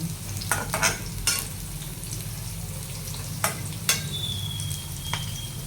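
Bitter gourd pieces fry in hot oil with a steady, moderate sizzle, broken by a few sharp clinks and scrapes of a utensil stirring in the pan.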